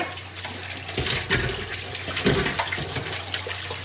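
Running water splashes and gurgles close by, with a few louder sloshing bursts as a clay pot is rinsed under the flow.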